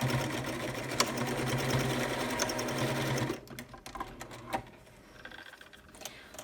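A sewing machine stitching elastic onto a fabric headband, running in a steady fast whir for about three seconds, then stopping into quieter fabric handling sounds and short bursts of stitching.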